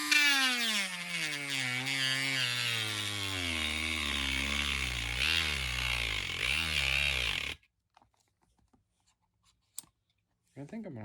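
A Dremel rotary tool whines loudly as it cuts into a rock-like earth material, its pitch sliding downward as the motor bogs and then cutting out abruptly, followed by near silence and a few faint knocks.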